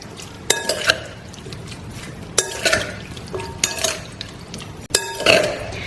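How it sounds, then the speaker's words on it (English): Cucumber being mixed into a Thai lime garlic dressing, heard as four separate bursts of wet clattering and scraping of utensils against a bowl, each lasting about half a second, spaced evenly apart, and close by. "it's time to add the cucumber to our dressing. Give that a good mix."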